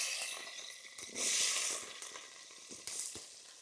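Onions frying in a pan over a campfire during hilltop night camping, a loud bright sizzle that swells and fades, with scraping and stirring knocks from the utensil; no talking.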